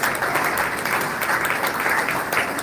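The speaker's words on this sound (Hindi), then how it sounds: "तालियां बंद नहीं होनी चाहिए, तालियां बजती रहे" Steady, dense clapping from an audience at a spiritual satsang gathering, sustained and even throughout with no pauses.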